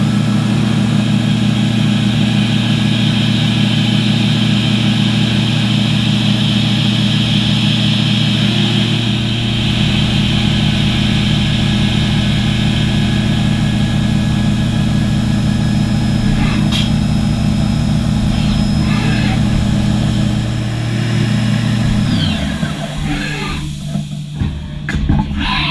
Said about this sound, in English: A quick fourth axis index over to the top performs the top cuts.